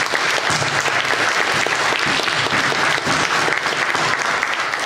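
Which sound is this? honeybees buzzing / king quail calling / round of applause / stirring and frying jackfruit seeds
round of applause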